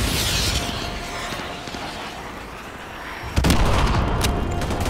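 AGM missile strikes exploding in the Call of Duty Modern Warfare 2 Remastered mission Contingency: a dense rumble of battle noise, then one sudden loud blast that holds as a heavy roar to the end, with no voices.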